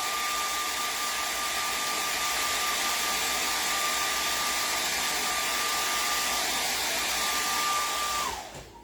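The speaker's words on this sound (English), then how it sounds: "Thank you, hair dryer." A hair dryer blows steadily with a constant whine, loud and close, then cuts off abruptly near the end.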